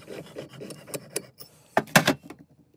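Short, uneven scraping strokes of a file on the ends of metal tubing for a bead, several quick rasps building to a louder burst near the end before silence.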